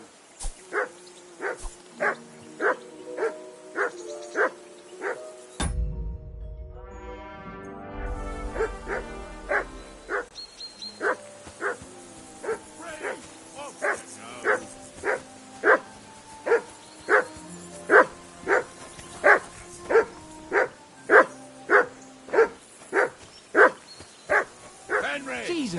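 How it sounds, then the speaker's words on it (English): A dog barks repeatedly in the video game Kingdom Come Deliverance 2, sharp evenly spaced barks that continue for most of the stretch, with brief whimpers and characters talking over them. "Jesus, Henry, that barking's driving me nuts. Can you get your dog to shut up?"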